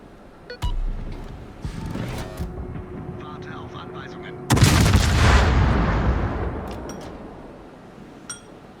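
Heavy naval gunfire from the Graf Spee's Scharnhorst guns in World of Warships, with a sharp boom early and a bigger, rumbling salvo midway that trails off, heard under a narrator's voice.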